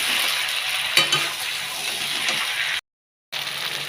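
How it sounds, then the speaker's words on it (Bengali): Fried garlic being added to a sizzling small-fish curry with green tomato and onion stalks: a loud, steady hiss of hot oil runs throughout, a brief clatter rises near the start, and the sound cuts out abruptly for half a second. "ভাজা রসুনগুলো দিয়ে দেবো।"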